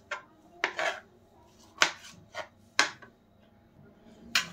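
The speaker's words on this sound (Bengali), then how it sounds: "টমেটোগুলো কিন্তু বড় বড় করে কেটে নেব আমি।" A knife chops washed tomatoes into large pieces on a board in a home kitchen, giving about six separate crisp strikes at an uneven pace. The sound is close and there is no talk.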